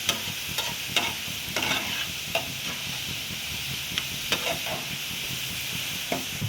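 Shredded potatoes frying in a pan sizzle steadily while a spatula stirs them, its scrapes and taps landing at uneven intervals close up.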